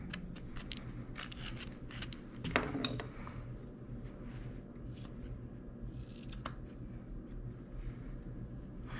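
Grooming scissors snip repeatedly through an Australian Shepherd's thick undercoat, producing quick close crisp clicks over a steady low background hum, with no talking.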